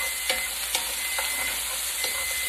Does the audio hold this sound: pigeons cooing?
no